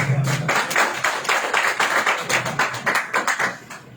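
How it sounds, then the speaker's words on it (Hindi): Youth meeting audience at a church in Nagpur clapping loudly to welcome a speaker, a steady burst of many hands filling the space, close and continuous. "जोरदार तालियां लगाओ"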